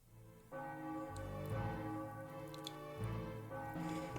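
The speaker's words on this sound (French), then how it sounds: "La cloche sonne." A bell rings in Final Fantasy 9, sustained resonant chimes sounding in successive strikes that layer and linger, with faint clicks scattered over the tone.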